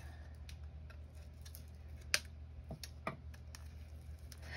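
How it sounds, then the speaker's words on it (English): Scissors snipping ribbon for a rag doll dress craft project, a few faint, sharp clicks and snips scattered over a low steady background hum, no talking. "So find me a good pair of scissors."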